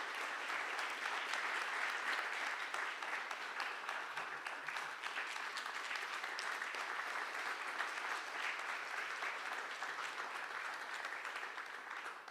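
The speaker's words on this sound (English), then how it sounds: "Let's give them a big round of applause." An audience at a closing plenary panel on agricultural funding and investment gives a big round of applause, steady dense clapping sustained evenly for about twelve seconds in a large room.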